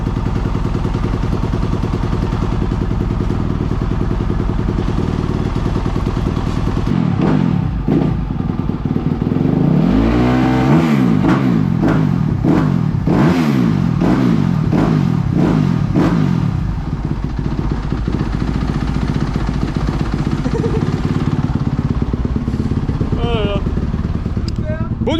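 A motorcycle engine runs at a steady idle, then is revved in several rising and falling bursts before settling back to idle, loud and close, with people talking nearby.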